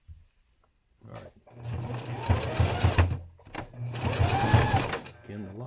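Sewing machine running a lock stitch on a sling saddle in bursts of fast rhythmic clatter, starting and stopping, with a person talking at times.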